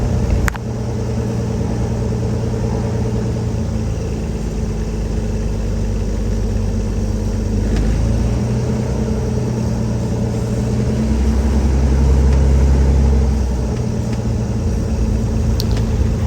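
A Cirrus SR22's piston engine hums low and steady from inside the cabin while taxiing at an airport, with a slight rise in power late on and a few faint clicks over the drone.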